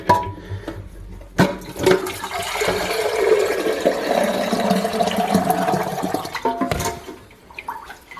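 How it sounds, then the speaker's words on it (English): Water pours out of the fill valve hole of a TOTO Ultramax II toilet tank after the valve is removed, a steady splashing gush lasting several seconds between a few louder knocks and thumps. "Once you take out that fill valve, remaining of the water will pour out from that hole."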